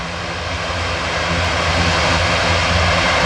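Airbus A400M turboprop engine test run at start-up with a faulty engine, a loud steady roar and whine that holds constant and close throughout, with no other sounds.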